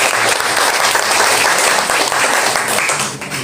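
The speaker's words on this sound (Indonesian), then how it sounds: "Boleh kasih tepuk tangan buat worship leader dan para musician sendiri" A church congregation at a Jakarta prayer-fellowship service claps for the worship leader and musicians, sustained full-room applause that stays loud and even before tapering off at the end.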